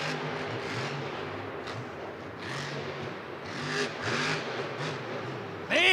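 The Zombie monster truck's engine revs hard at a Monster Jam show in Houston's NRG Stadium. The roar pulses up and down through repeated throttle bursts against crowd noise, ending in a sharp louder burst.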